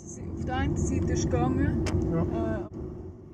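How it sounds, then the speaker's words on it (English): A car drives along roads through Swiss villages, giving a steady low engine and road rumble heard from inside, with a voice and chirpy higher sounds layered over it. "This time by car"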